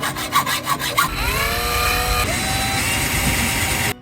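A metal angle iron being cut by a power tool at a campervan roadside repair: rhythmic scraping strokes at first, then a loud continuous grinding whine that shifts pitch as it bites, close and harsh, with no talk.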